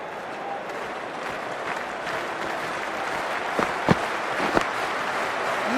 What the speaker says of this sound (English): already the crowd is up and about